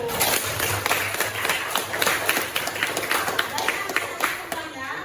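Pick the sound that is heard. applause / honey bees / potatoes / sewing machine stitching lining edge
applause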